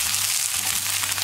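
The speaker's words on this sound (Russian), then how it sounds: "Отправляем сюда перец. И быстренько обжариваем." Bell peppers sizzle and fry in a hot pan over fairly high heat, a steady close hiss with no talking.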